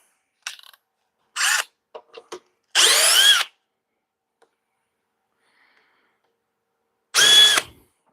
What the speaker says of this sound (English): we'll test the Milwaukee through the same screws